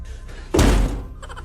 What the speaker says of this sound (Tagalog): Baka kaya ko tumagos sa pintuan.